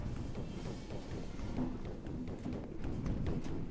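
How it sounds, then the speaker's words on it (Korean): Rapid footsteps in a horror chase video game, a steady run of quick, hollow clip-clopping taps at moderate loudness over a low background rumble. "발소리가 발소리가 왜 이렇게 나는 거지"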